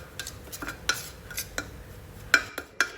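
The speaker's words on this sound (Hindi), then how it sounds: "अब इन तमाम चीज़ों को हम अच्छे से मिक्स करेंगे।" A spoon scrapes and clinks through a thick tandoori masala spice marinade in a bowl, with short irregular taps and strokes, close and fairly quiet, with no voices.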